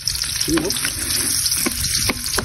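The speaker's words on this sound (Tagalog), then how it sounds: "Lagyan na tayo ng bawang." Garlic and onion sauté in hot cooking oil for ginisang mackerel at kangkong, giving a loud, close, continuous sizzle with brief scraping stirs.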